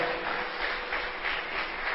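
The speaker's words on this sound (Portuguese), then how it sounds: "Você pode aplaudir o Senhor?" Steady applause from a church congregation, a continuous wash of many hands clapping at even loudness with no talking over it.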